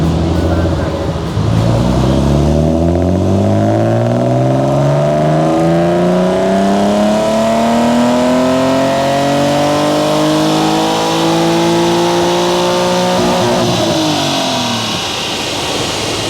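A BMW E36 328i engine revs hard on a mobile dyno, steadily climbing in pitch for several seconds at full throttle, loud and droning, heard from the rear, then easing off near the end.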